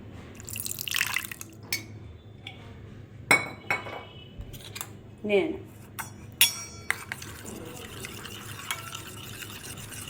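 Fried spices and a little water stirred into yogurt with a spoon, giving scattered clinks and soft wet scrapes against the bowl, close by and fairly quiet, with drips in between.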